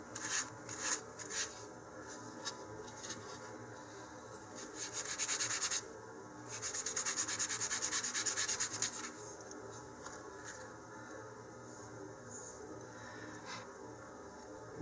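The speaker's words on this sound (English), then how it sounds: "I'm just going to sand off the top surface a little bit here." Hand sanding the top surface of a small model rocket part, soft scratchy rubbing strokes in uneven bursts with short pauses, close and fairly quiet.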